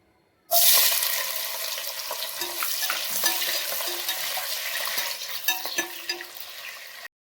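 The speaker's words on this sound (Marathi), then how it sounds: "सर्वात पहिले आपण कांदा फ्राय करून घेणार आहे" Onions frying in a generous amount of oil for chicken dum biryani, a loud hissing sizzle that bursts in suddenly and holds steady, close by, with intermittent stirring clatter and crackles.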